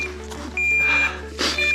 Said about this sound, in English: we're going to go for the beep